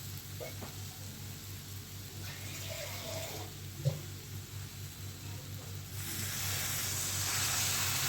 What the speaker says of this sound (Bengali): একটুখানি জল দিয়ে দিই।